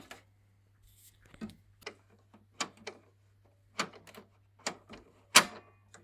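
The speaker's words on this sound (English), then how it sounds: "On the left side there is a gear that you turn clockwise until you hear a click" A Canon MAXIFY MB2050-series printer gives off a string of small, sharp mechanical clicks and ticks as its side gear is turned clockwise, spaced unevenly, close and fairly quiet, with one louder snap near the end.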